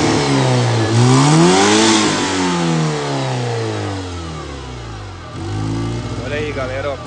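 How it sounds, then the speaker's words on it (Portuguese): Car engine revving up as the throttle opens fully in a repair shop, rising and falling in pitch over several seconds, loud and close, with someone talking over it. "Quando você usa o acelerador todo, a borboleta aqui abre toda."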